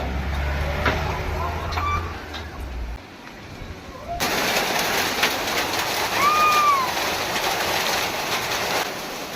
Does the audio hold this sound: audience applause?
no